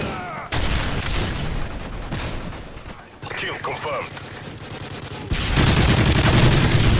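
Rapid video game gunfire from Modern Warfare 3 on the Pleasure Country map, loud bursts with a heavier volley near the end, mixed with game effects and a player talking over it.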